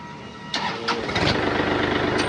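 A 2023 Kubota L4018SP tractor engine cranks with a couple of starter bursts, then catches and settles into a close, steady rumbling idle.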